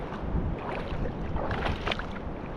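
Sea waves break along a rocky shore while sea urchins are gathered, a rough, close wash of surf mixed with wind buffeting on the microphone and no talking.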